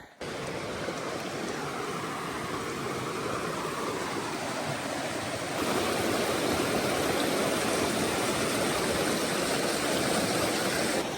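A river crossing on the Pacific Crest Trail rushes loudly and steadily, a dense broadband roar of flowing water that swells a little midway and stays constant with no voices.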